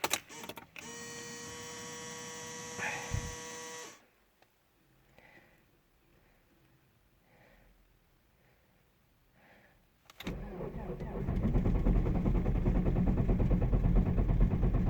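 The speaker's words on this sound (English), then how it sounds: "I just changed my car battery and will try to start up engine." A Toyota Corolla E120 with a D4D diesel engine is cranked in minus 20 cold after a battery replacement: a steady starter whir and whine for several seconds, a pause of quiet, then the engine catches into a loud, rough, clattering idle.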